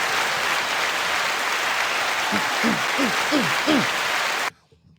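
Loud, dense applause from a crowd fills the space, with a few cheers rising through it, then cuts off abruptly into near silence.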